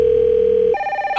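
A telephone rings in the You Don't Know Jack video game, one steady electronic tone that jumps to a higher pitch partway through, heard alone with no talk.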